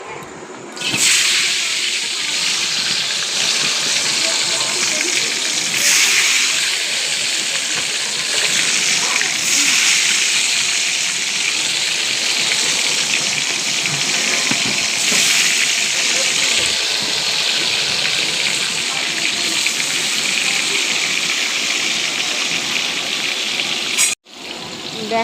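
Pointed gourd (potol) slices rubbed with salt, turmeric and a little sugar frying in hot oil, giving a continuous loud sizzling hiss with small spits and crackles that holds steady until a brief break near the end.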